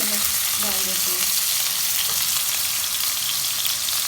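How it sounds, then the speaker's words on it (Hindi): Chopped medium onion frying in hot oil for potato and fenugreek bhaji gives a loud, continuous close sizzle that holds evenly throughout, with a few faint tonal sounds near the start. "अब मैं इसके अंदर ये चॉप मेरी प्याज जो है ये मैं डाल देती हूँ।"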